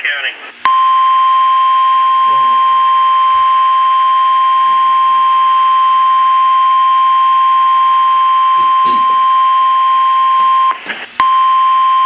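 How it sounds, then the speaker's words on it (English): A weather radio's alert tone blares during a tornado warning, a loud steady high beep that holds for about ten seconds, breaks briefly, then resumes, with faint voices underneath. "I need the same alarm."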